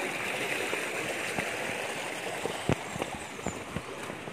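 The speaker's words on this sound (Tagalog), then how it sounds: "Tawid tayo dito sa ilog. Maliit na ilog." A small, clear river flowing on a mountainside, a steady near babble of water with occasional soft splashes and knocks.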